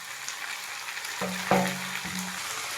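Tomato tipped into onions frying in butter in a pan, soft steady sizzle with a few clear thuds and clinks of the pieces landing and being moved, close and fairly quiet.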